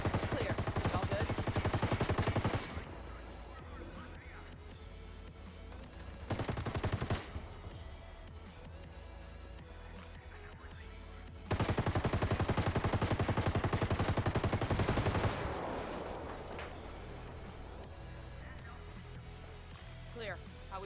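Automatic gunfire fills a video-game cartel shootout, with long dense bursts of rifle fire, loud and close, broken by short pauses, while voices talk now and then.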